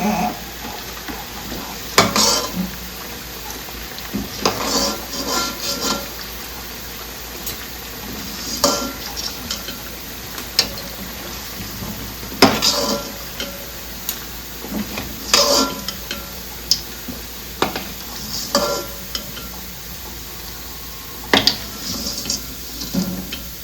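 Parippu vada, lentil fritters, sizzle in hot oil with a constant soft frying hiss, broken by irregular clinks and scrapes of a ladle as the fritters are stirred and scooped out.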